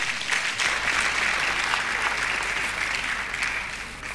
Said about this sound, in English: Applause for the chairman.